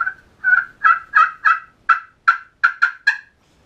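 Rapid yelping turkey calls come from a striker scratched across a slate pot call, about ten sharp, close, loud notes in a quick uneven rhythm with no voices.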